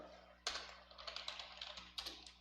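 Keys clatter on a computer keyboard during AutoCAD drafting, a quiet run of irregular taps with a couple of sharper clusters of keystrokes, close and alone.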